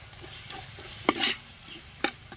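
Spoon scraping and stirring through masala sautéing with garam masala in a pan, a low steady sizzle under a few distinct sharp scrapes, close and fairly quiet.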